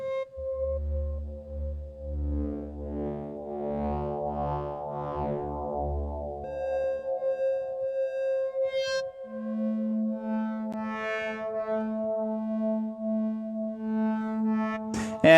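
A Buchla Easel Command synthesizer patch plays sustained analog tones whose pitch wavers and steps under deepening random voltage modulation, with a low drone giving way to higher held notes, alone and up close.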